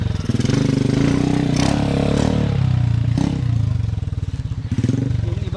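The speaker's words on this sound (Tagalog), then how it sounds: "motor." A motorcycle engine runs steadily near a mango harvest, a low continuous rumble with some clatter under a person talking throughout.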